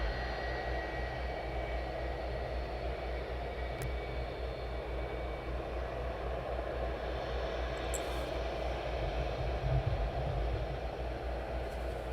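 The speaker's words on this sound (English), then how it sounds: "Nice to see the 75 taxiing in." A Boeing 757 taxis in at East Midlands Airport, its engines giving a steady, loud broadband roar that holds evenly throughout with no voices.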